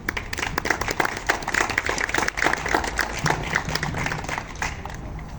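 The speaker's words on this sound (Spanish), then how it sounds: "permítanme presentar a Carlos Ramírez, a quien lo recibimos con un fuerte aplauso." An audience at a tribute event gives a strong round of applause, steady, fairly close clapping that continues evenly before thinning slightly at the end.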